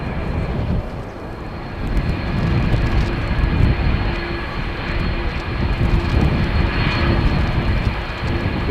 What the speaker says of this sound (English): Is this an aborted takeoff?